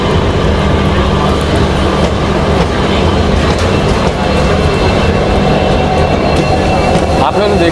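A crowded passenger train with sleeper coaches climbs a steep graded line in scenic north-east India between Guwahati and Badarpur, its continuous loud rumble and rail noise rolling on steadily throughout.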